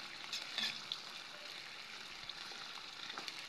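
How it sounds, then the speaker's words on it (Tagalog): Winged beans sauté in a pan with sardines, giving a quiet, even hiss of frying with a few faint crackles and pops, no voices over it. "gigisa na natin yung sigarilyas"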